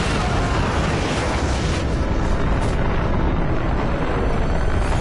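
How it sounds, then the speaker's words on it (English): Loud, continuous roar of rocket blasts and explosions from the video game Rogue Trooper Redux, a dense, sustained rumble with overlapping bursts and no clear gaps. "they're shooting all the Rogue Troopers out of the sky with rockets"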